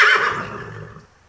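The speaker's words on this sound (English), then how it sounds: "Cavalo." A horse whinnies once, close and loud, its shrill call sliding down and fading out over about a second, with nothing else heard.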